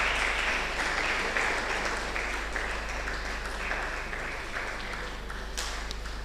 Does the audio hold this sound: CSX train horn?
no